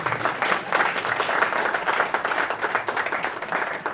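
Audience applause at a Constitution Day seminar, a dense, steady clapping from a room full of people that holds at an even loudness for the whole stretch, with no speech over it.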